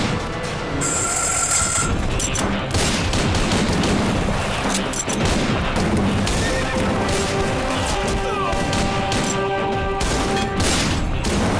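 A film wedding scene with bursts of gunfire and horses neighing loudly, mixed with crashes and hoofbeats in a dense, chaotic din that continues throughout.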